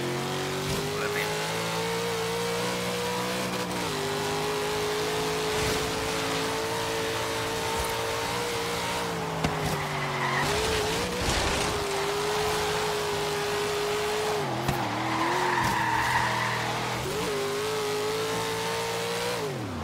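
1970 Chevelle in Forza Horizon 3, engine revving steadily and dropping pitch with each gear shift, racing continuously with brief tire noise, no one speaking over it.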